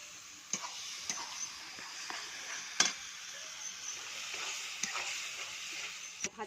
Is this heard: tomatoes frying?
yes